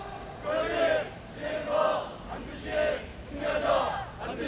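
A crowd of non-regular Kia workers at a labor sit-in protest chants a slogan together in four loud rhythmic shouted phrases, voices blending into one forceful group cry.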